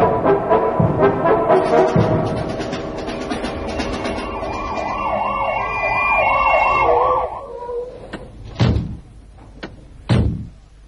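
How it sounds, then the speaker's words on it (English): A loud wailing siren cycles steadily over mixed traffic and clatter, then cuts out, followed by two heavy slams. "The firemen are coming. Can you hear the siren?"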